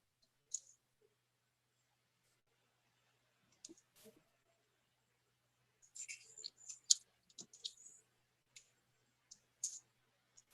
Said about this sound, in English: Step 1, fold the paper.